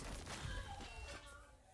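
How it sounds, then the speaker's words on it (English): A video game explosion bursts out with a loud crackling boom and a yellow shockwave, then trails off into fading rumble over about two seconds. "There's the explosion."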